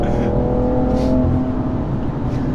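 A BMW M3 revving, its exhaust letting out a rough fart: a strong, close engine drone rises and holds, broken by a couple of brief sharp bursts. Nobody speaks.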